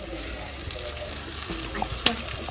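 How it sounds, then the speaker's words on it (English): A dollop of saltfish fritter batter fries in hot oil in a home kitchen, giving a steady, close crackling sizzle with a few sharper pops, and no one speaks over it. "Listen to it sizzle."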